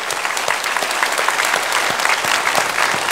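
A church congregation at a Sunday anniversary thanksgiving service claps together in a steady, close, continuous burst of applause with a few sharper individual claps standing out.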